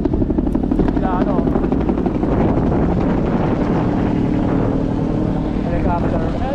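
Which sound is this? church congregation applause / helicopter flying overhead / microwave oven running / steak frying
helicopter flying overhead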